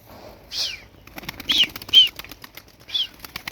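Performance pigeons flap their wings in flight, giving several quick, separate bursts of wingbeats close by against a quiet background.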